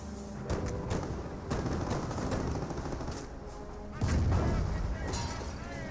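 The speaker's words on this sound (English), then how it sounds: "Nebel Warfare now firing away." Nebelwerfer rocket artillery fires in the World War II game Company of Heroes, heard as a chain of rumbling launches and booms amid ongoing battle noise, with voices talking over the barrage.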